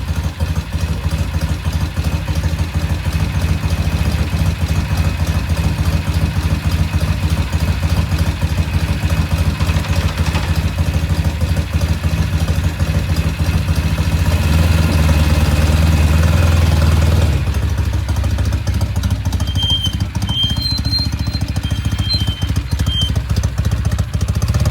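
A Norton motorcycle engine idles steadily and close by, with a continuous low throb and light mechanical clatter that shifts slightly in tone partway through, and no talking.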